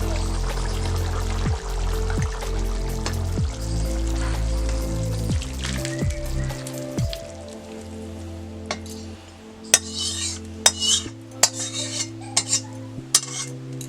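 Cooked pork being taken off a clay stove and served: metal utensils scrape and clink against pots and dishes close by, ending in a run of bright, irregular clinks and taps.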